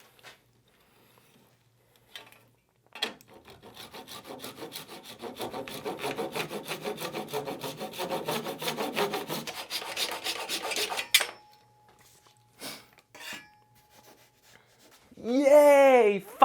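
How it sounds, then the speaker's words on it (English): Rapid rhythmic rasping of a Japanese pull saw trimming a walnut slab flush for several seconds, close up, with a few knocks before and after and a brief voice at the end. "I will take a normal Japanese pull saw and put a playing card under it"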